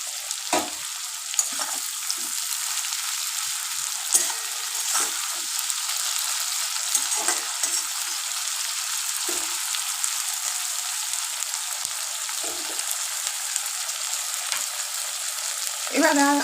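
Chopped onions with a pinch of salt fry in a pan until soft. A steady, close sizzle runs throughout, with frequent soft scrapes and taps of a spoon stirring them.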